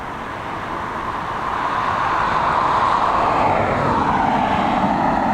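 A Boeing 787-10 Dreamliner arriving at Dublin Airport in high winds, its engine roar swelling from moderate to loud and holding steady as the jet passes close, with wind rumble underneath and no talk.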